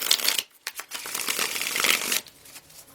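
Tarot cards riffle in a close, continuous shuffle, with a short pause before a longer burst of crisp papery flutter that stops abruptly near the end; no talking.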